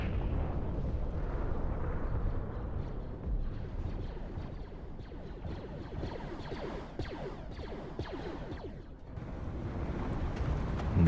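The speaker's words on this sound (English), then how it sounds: "And there's the massive explosion, 2 nukes going off here." Two nuclear blasts in the video game WARNO, a deep, sustained rumbling roar with crackling debris, heavy and continuous before a brief dip and a renewed surge.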